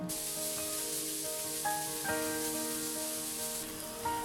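Onions sauté in a pan for an egg masala curry, giving a steady, close broadband sizzle with small crackles and occasional stirring clinks throughout.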